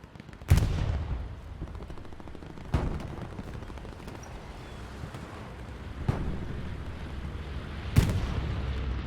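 Bombing-run explosions and gunfire in a competitive multiplayer war video game: four sharp, heavy booms spaced a couple of seconds apart over a steady rumbling battlefield background, with no talk.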